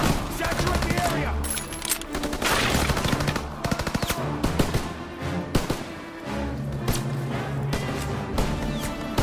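Video game gunfire from Call of Duty: WWII: loud, dense bursts of rifle and machine-gun shots crackling continuously through the battle, with brief shouted voices mixed into the din.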